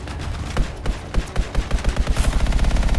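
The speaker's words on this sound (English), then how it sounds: "Incoming artillery." Artillery fire in the video game Anthem: a dense run of heavy booming blasts, starting as scattered hits and building into a rapid, steady barrage of loud impacts with no talk over it.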